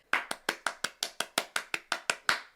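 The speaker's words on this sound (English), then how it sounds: "something percussion like a clapping like I've just done" Recorded hand claps play back through the ThumbJam app as about thirteen sharp, evenly spaced claps, close and crisp, each decaying quickly, with no talking.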